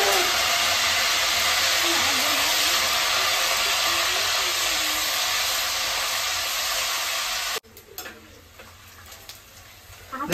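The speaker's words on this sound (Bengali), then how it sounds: "এবার নুন হলদি জলটা দিয়ে দেবো এর মধ্যে, ছিটিয়ে দেবো ভালো করে" Banana chips frying in hot oil, sprinkled with salted turmeric water, a loud, close, dense roaring sizzle that holds steady for about seven seconds, then cuts off sharply into quieter scattered crackles and clatter.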